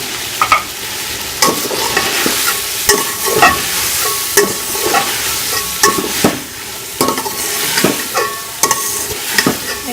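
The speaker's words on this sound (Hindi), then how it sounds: "ये मटर और गाजर डाल दिया और इसके साथ ये आलू डाल के हम तो अच्छे से मिक्स कर लूँगी" Peas, carrots and potatoes being stir-fried for vegetable fried rice, with a loud continuous sizzle broken by repeated sharp scraping strokes of a spatula against the pan.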